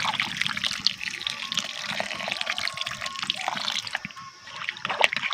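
Water pours into a pan of Bengali rohu fish curry with potatoes, a steady trickling splash close up, with faint voices in the background.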